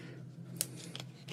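Scissors cut in a quiet room, with one crisp snip and a couple of fainter clicks in quick succession.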